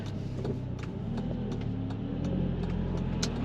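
An Audi TT with a turbocharged engine drones steadily from inside the cabin while driving, a low continuous rumble with a faint rise in revs and light whooshing, no voices.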